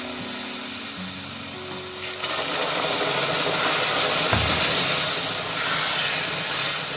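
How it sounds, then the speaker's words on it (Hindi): Hot water is poured into a hot pan on a low gas flame, and steam hisses loudly and steadily as a broad, continuous rushing sound that swells partway through, with no speech. "ये भाप निकल रही है"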